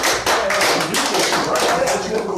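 Audience at a live performance claps in a loud, dense burst that carries on steadily for a couple of seconds, close and full.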